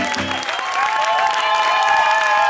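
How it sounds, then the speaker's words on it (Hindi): A cartoon audience applauds for the contestant Lullu, a dense, steady wash of clapping running throughout with tonal music layered on top. "तालियां हो जाए।"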